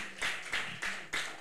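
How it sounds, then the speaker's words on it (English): A church congregation claps together in several strong bursts, each a dense wash of many hands that swells and fades in a loose rhythm, close and loud, with no voices over it. "The thunderous clap."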